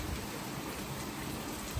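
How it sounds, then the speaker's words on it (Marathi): A soft, steady wash of heavy rain falling, continuous and even, with no voices. "मोठा आहे पाऊस"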